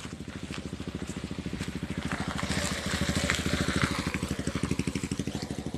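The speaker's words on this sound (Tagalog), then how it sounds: "Motor nila" A motorcycle engine runs steadily close by, its fast regular firing pulses loud and continuous throughout, with no voices over it.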